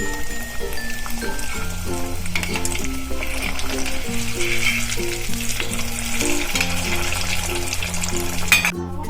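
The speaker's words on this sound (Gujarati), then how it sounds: "આપણે અહીંયા તેલ મૂકી દીધું છે, તો આપણે સેલો ફ્રાય કરશું." Veg tikki patties shallow frying in oil in a pan for a breadless veg burger, a steady close sizzle running under background music throughout.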